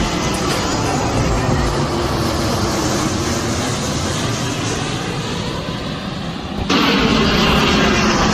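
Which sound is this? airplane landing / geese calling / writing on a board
airplane landing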